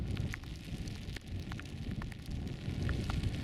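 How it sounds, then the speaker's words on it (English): Rain patters and crackles close by over a low, rumbling wash, likely wind buffeting; occasional sharper drops stand out. "Oh, it's raining now."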